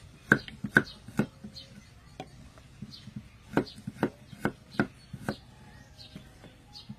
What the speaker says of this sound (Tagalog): Tapos hiwain natin ng manipis